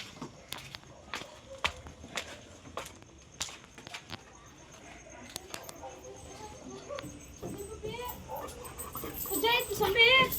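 A pet puppy outside a house with a pandal patters about, its footsteps and small whimpers mixed with scattered sharp knocks, while people chat close by and a voice gets louder toward the end.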